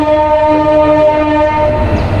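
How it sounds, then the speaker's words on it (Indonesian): A train rolls steadily past at close range, loud and continuous, with tonal horn-like bands held throughout and no voices. "tadi kan ada suara kereta Pak"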